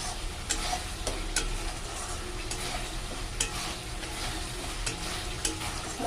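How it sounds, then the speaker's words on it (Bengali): Spice masala with mustard and poppy seed paste fries and is stirred in oil for katla fish kalia, giving a dense continuous sizzle with sharp scraping clicks from the spatula throughout. "মশলাটা আমার কষানো হয়ে গেছে"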